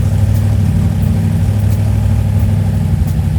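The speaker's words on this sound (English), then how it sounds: "turbo motors, that's the beauty of them. They'll just hum right along" A turbocharged Volvo wagon engine of about 1,500 horsepower idles with a steady, loud, low hum and a constant droning rumble, with no talking.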